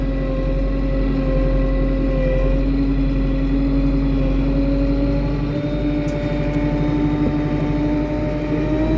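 A Lovol P4110 tractor driving forward in sixth gear with a mounted cultivator, its diesel engine droning loud and steady close by, a constant low hum with layered harmonic tones.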